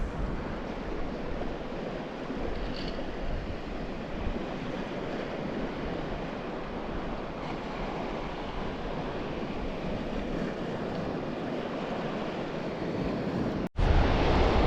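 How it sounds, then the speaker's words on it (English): Wind buffeting the microphone at the seashore at Folkestone Warren, with continuous surf washing in under it, loud and steady throughout, with a brief dropout near the end. "I do feel the wind's picking up."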